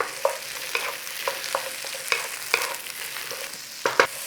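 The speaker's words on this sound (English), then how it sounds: "a little bit of oil in there. In there your veggies. Nice little stir on there" Vegetables sizzle in a little oil in a hot pan for a quick sweet and sour noodle bowl, with a steady crackling fry broken by repeated sharp scrapes and clacks of stirring, close and without talk.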